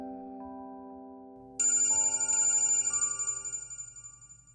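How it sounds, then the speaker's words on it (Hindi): A phone ringtone plays, a sustained electronic chime that shifts into a brighter repeating melodic ring, fairly loud with no voices. "ये फोन बार बार क्यों बज रहा है?"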